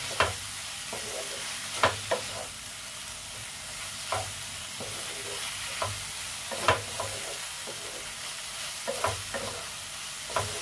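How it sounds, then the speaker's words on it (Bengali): Spice masala for katla fish curry fries in a pan with a soft, steady sizzle, punctuated by regular clacks and scrapes of a spatula stirring, fairly quiet with no talking. "মোটামুটি আমার এটা কষানো হয়ে এসছে, আর একটু কষিয়ে নিচ্ছি"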